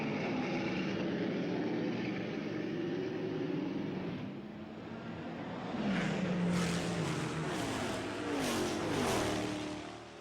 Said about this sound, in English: Donohue and the Porsche 917-30 are blisteringly fast.